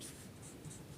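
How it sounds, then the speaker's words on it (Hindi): Chalk writing on a board during a physics lesson on concave mirror equations, a faint continuous scratchy scrawl with a low room hum and no talking. "तो यहाँ पर हम लिख सकते हैं"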